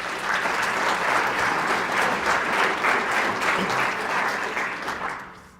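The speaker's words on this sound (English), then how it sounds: "That deserves a round of applause." Steady, dense applause from a sizable crowd at a mayor's State of the City address, clapping continuously at even loudness before tapering off at the end.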